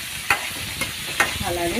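Tomatoes and curry leaves frying in a pan, a steady broadband sizzle with a few sharp stirring clinks and scrapes, close and moderately loud, with a brief spoken word partway through.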